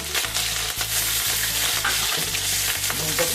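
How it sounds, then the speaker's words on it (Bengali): Chopped green chilies and cumin seeds sizzle steadily in hot oil in a pan, with the spatula scraping and stirring in a regular rhythm, close and fairly loud, with no voice. "লঙ্কা কুচিতে একটু সামান্য ভেজে নেবো"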